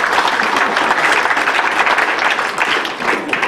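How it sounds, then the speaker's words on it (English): A comedy club audience at a benefit show claps steadily for a few seconds, a dense, even wash of applause up close with no talk over it. "Give yourselves a nice round of applause for coming out and supporting a great cause here tonight."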